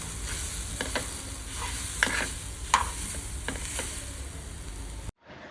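Grated coconut and fried onion are stirred in a hot pan, with a steady close sizzle and several distinct scraping strokes, then a sudden cut to near silence at the end; no talking.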